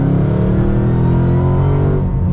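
A boosted Corvette Z06 V8 sports car accelerating hard in second gear, heard as a loud, close, continuous engine roar with rising pitch.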